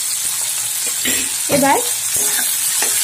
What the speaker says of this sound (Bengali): টমেটোটা নরম হওয়া পর্যন্ত আমি এগুলোকে ভাজবো